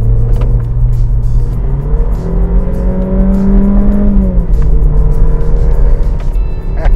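A Mercedes-Benz CLA 180 in sports mode revs hard, its engine note climbing and falling in pitch with a steady loud drone throughout, close and continuous with no talk.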